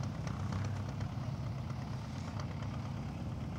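A diesel engine idles in an all-terrain vehicle built on an old ZIL with a shortened frame, at an outdoor 4x4 jeep festival in Brest. Its steady, loud, close rumble runs unbroken, with a slight knocking texture.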